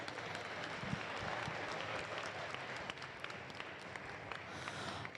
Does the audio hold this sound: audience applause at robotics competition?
yes